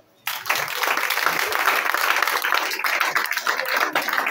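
A church congregation breaks into loud, sustained clapping and cheering to acclaim the Lord during a sermon, a dense wash of many hands that starts abruptly and holds steady to the end.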